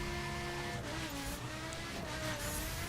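Lamborghini Gallardo supercar in The Crew racing on a circuit, engine droning steadily at high revs with shifting pitch and occasional tire noise, loud and continuous.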